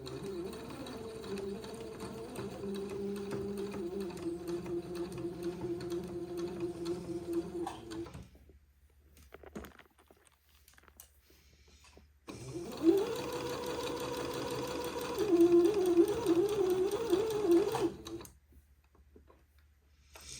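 A sewing machine stitches a lace panel onto the hem of a dress in two bursts of steady, rapid mechanical whirring and ticking, with a quiet pause between them and a stop at the end.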